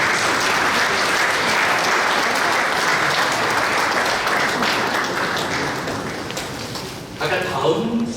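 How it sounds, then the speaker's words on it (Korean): A church audience at a forum gives loud, sustained applause to welcome a pastor, a dense rain-like wash of clapping that thins toward the end as a few voices surface. "목사님 나오실 때 크게 박수"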